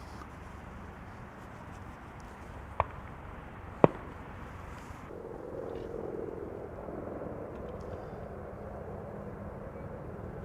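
New Year's fireworks near Amsterdam Schiphol Airport: two sharp, distant bangs a second apart over a steady roar of aircraft.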